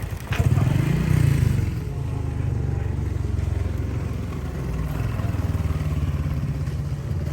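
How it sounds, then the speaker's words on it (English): A mini motorbike rides along in Indonesia, its small engine putting out a steady low buzzing drone with a brief rev near the start, fairly close and unbroken by speech. "Phil, our resident gorilla on a mini bike, even took a spin."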